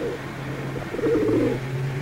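A homing pigeon coos in a 1958 city crime drama: a short, soft, low warbling coo that swells in the middle and is heard alone.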